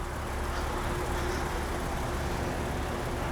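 2021 Lexus RC350 F-Sport with its naturally aspirated V6, heard from inside as a steady, even engine drone under road and cabin noise, moderately loud with no revving swings.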